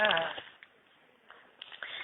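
Sheep bleating faintly, with a couple of brief bleats at the start and again near the end amid quiet background sounds.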